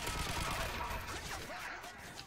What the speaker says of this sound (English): Turn back and fire.